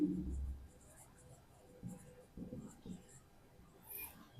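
A pen or marker writes by hand close by in short, faint scratching strokes with small pauses between them, under a soft low murmur.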